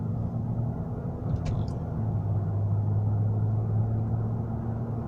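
A Range Rover Vogue cruises along with a low, even engine and road hum heard from inside the cabin, a steady moderate drone broken only by a faint brief chirp.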